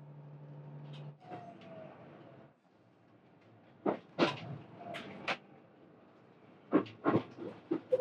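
Interior of the Resort View Furusato train at a switchback between Nagano and Matsumoto, moving at low speed: a quiet rumble, then scattered clanks and knocks of couplings and wheels over points as the cars shift.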